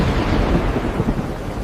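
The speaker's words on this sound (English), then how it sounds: "Instantly, the storm vanished." A thunderstorm sound effect in a fairy-tale narration: a loud, continuous low rumble of thunder blended with a rain-like hiss, heard alone without speech.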